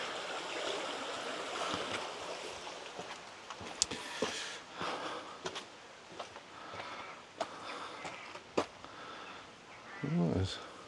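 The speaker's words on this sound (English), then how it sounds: "Beautiful river there going under the" A river flows beneath a footpath at Lustleigh on Dartmoor, a soft, steady rushing of water with a few light clicks and footsteps, heard at a modest level as someone talks nearby.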